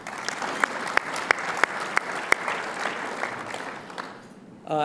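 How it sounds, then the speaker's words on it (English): Audience applause at a golf awards luncheon: a crowd clapping with several loud, distinct claps nearby, fading toward the end before a brief voice. "Let's give them all a big round of applause"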